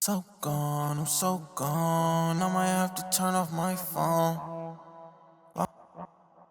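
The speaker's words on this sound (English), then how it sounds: "A different delay for the verse that sounds something like this." A sung trap vocal verse drenched in a short delay, with short echoes repeating and trailing off after the phrases end.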